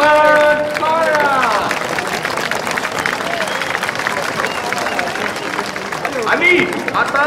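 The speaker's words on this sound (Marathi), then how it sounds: "अरे या या या टाळ्या टाळ्या टाळ्या" A village crowd claps and cheers at a lottery draw as the second prize, a red fridge, goes to its winner. The steady applause runs throughout, loud and close, with voices calling out over it.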